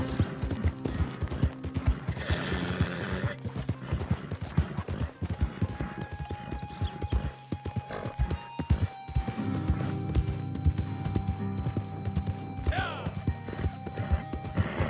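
Horse hooves pounding in the video game Red Dead Online, a starter horse galloping in a sustained rapid rhythm with occasional whinnies and a brief pause midway, close and loud over a game soundscape.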